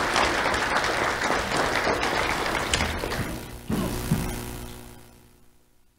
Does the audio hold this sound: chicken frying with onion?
no